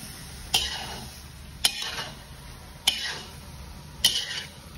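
A spoon stirs pork in tomato sauce in a pan. Four separate scraping knocks come at roughly one-second intervals over a faint, steady background hiss, with no talking.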